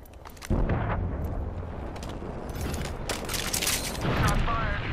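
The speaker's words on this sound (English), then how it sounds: "Shot fired" Gunfire in the Apex Legends battle royale game, a dense, loud burst of shots kicking in after a brief lull and continuing with sharp impacts and rumbling booms throughout, set against busy game sounds.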